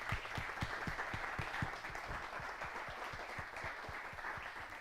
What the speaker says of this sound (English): one last round of applause for Jesus.